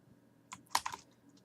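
Short burst of typing on a computer keyboard while searching a reference database, a handful of quick clustered keystrokes near the mic with quiet pauses before and after.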